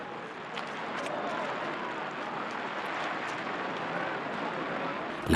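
Steady rain patters in a soft, even hiss throughout, with occasional slightly louder drops.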